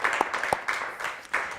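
Brief burst of audience applause for Clover, a dog adopted from a humane society shelter, with scattered claps over a broad hiss, fairly soft and short.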